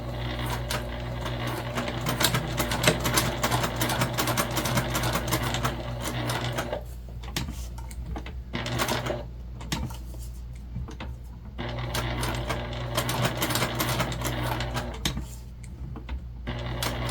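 A sewing machine top-stitches around all four sides of a fabric bag tag, running in long continuous bursts with short pauses between stretches, close and clear.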